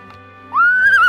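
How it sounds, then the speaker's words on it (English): After a brief quiet moment, a single high whinny from an Arabian mare rises sharply and holds, fairly close and clear. "Then the Arabian lead mare whinnied to the other horses to let them know that it was time to go."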